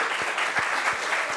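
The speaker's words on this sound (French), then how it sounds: "Applaudissements pour lui, s'il vous plaît." An audience applauds a guest introduced on a stage, a steady broadband clatter of many hands clapping with soft swells in intensity throughout.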